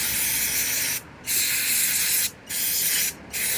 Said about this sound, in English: I'm going to spray off the area before I pop this grommet out